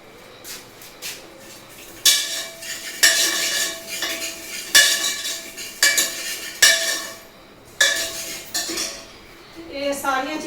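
A spoon clatters and scrapes around a bowl, mixing turmeric and other spices for homemade Punjabi fryums, with repeated loud clinks and stirring strokes in an irregular rhythm and no talk.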